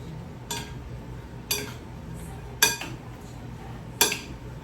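Metal utensils clink against a bowl while ceviche is being mixed: four sharp, close clinks about a second apart over a faint room hum, with no talking.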